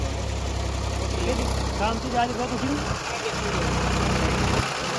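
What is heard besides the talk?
tractor engine during soil levelling work in a farm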